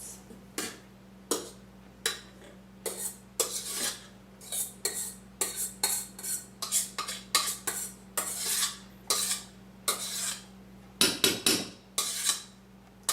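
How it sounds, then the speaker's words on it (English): A large spoon folds egg whites into cake batter in a bowl, producing a long series of rhythmic scraping strokes, close and moderately loud, with short pauses between them. "So now with a large spoon, I'm going to fold in the egg whites."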